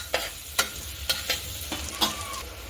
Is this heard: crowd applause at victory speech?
no